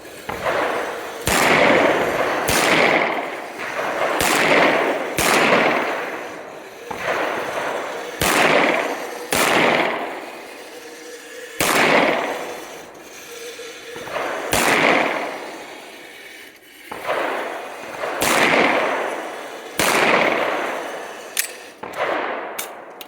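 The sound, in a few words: handgun shots fired at moving targets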